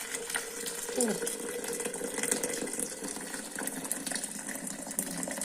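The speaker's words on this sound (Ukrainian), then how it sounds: "І наливати води." Water pours steadily into a pot for cooking green pea pods, a continuous trickling splash with faint background noise.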